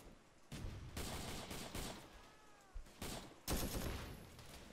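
Rapid gunfire bursts in a Vietnam War shooter video game, several loud close volleys and single shots separated by brief pauses.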